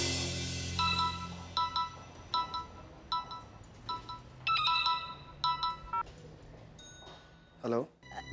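A phone rings in a repeating pattern of short, bright electronic tones while a call is placed, followed by a brief distinct tone near the end.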